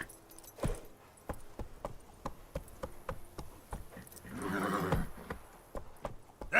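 Roach, the horse in The Witcher 3 game, trots with a regular clip-clop of hooves, then lets out a drawn-out neigh midway before the hoofbeats carry on.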